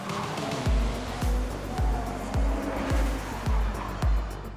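An Ariel Atom race car at the Race of Champions in Mexico, engine tone repeatedly climbing and dropping as it shifts through gears at a regular rhythm, moderately loud under a steady crowd or track wash.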